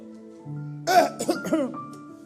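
A preacher imitating a man coughing and hawking to clear his throat, a short run of rough, voiced throaty bursts at close range.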